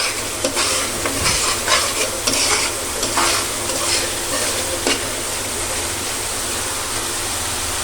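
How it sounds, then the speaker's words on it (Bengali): Spice masala is sautéed in a pan for a fish curry, a dense, even sizzle with a few stirring scrapes early on, then a steady hiss to the end. "মশলাটাকে একটু ভালো করে কষিয়ে নিই।"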